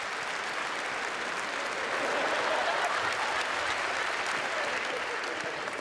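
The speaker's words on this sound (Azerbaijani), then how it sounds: "Alqışlarınızla." Sustained applause from a TV studio audience welcoming a guest, dense, even clapping from many hands holding a steady level throughout, fairly close and unbroken.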